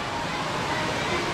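Jumog waterfall in Ngargoyoso, Karanganyar, a steady broadband rush of falling water, continuous and fairly near.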